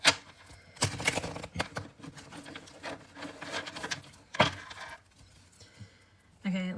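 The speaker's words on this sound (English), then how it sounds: "Okay, was that shuffled enough for you?" Playing cards being shuffled, a run of quick riffling and rubbing bursts with sharp snaps and short pauses between, close and moderately loud, with no talk.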